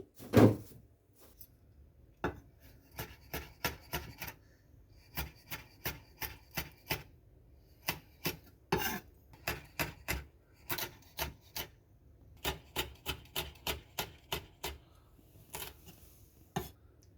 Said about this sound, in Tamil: இப்போ வந்து நம்ம வந்து ரெட் சில்லி கட் பண்ணிப்போம்.